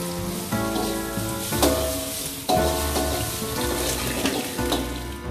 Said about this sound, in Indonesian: diaduk-aduk ditumis hingga mengeluarkan bau harum yang sedap